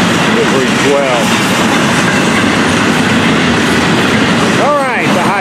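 Florida East Coast Railway freight train 101, a merchandise train in Miami, rolls past steadily and loud with constant wheel rumble, plus brief squealing wheel tones near the start and again near the end.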